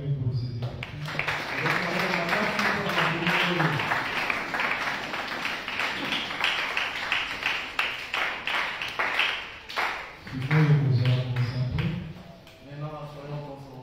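Applause from a church congregation, a dense burst of clapping that swells and holds before fading, with voices singing or talking at the start and again near the end.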